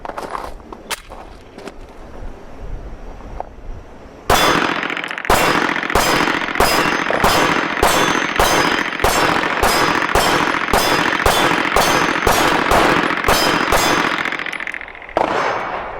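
A PSA Dagger Compact pistol fires at an outdoor range: after a few scattered sounds, a rapid string of about fifteen loud, close, evenly spaced shots follows, then one last shot.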